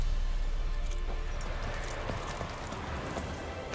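The horse Roach's hooves clop steadily at a gallop in Witcher 3, a rapid rhythm close by under a constant wash of ambient wind noise.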